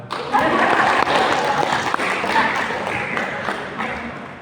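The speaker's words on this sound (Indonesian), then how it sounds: "Tepuk tangan." Audience clapping at a government coordination meeting on stunting in Serdang Bedagai regency fills the room with a dense, steady patter of many hands, loud and sustained throughout, with faint voices mixed in.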